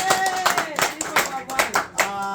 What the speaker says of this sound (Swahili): Acha nikuombe unisaidie kwa makofi na vigelegele.